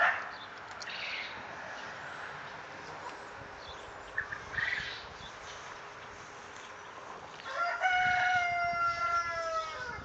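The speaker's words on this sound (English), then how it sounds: "there's 5 chickens in here." Chickens cluck faintly in the background, then a rooster crows clearly near the end over steady outdoor ambience.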